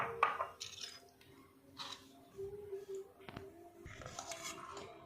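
Chicken paste is stirred in a bowl with chopped onion, chili, ginger, garlic, carrot and coriander for momo filling, with scattered clinks of a utensil against the dish, soft wet squishes and a few sharper taps in a quiet kitchen.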